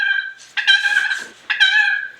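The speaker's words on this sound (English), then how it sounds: "on these pot calls, you can make a purr" A turkey pot call worked with a striker gives a rolling purr in three close, bright trilling bursts, loud and near, with no voices.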